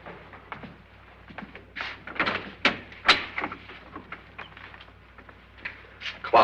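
Doors in an old haunted house are opened and shut one after another, giving a series of close, sharp clacks and thumps with soft scuffing in between.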